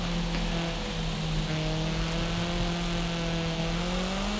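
Small drift car in Forza Horizon 5 driving through a speed zone, its engine droning steadily at high revs and rising slowly in pitch, loud and close throughout with no talk.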